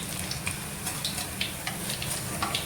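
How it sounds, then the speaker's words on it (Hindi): Potato egg rolls fry in hot oil, giving a steady, close crackling sizzle with scattered small pops throughout and no voices. "और अब मैं इनको पूरा गोल्डन फ्राई करूँगी।"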